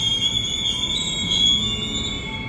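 A KRL commuter train bound for Bogor pulls into Universitas Indonesia station, a steady rumbling roll with high, sustained wheel squeal throughout at close range.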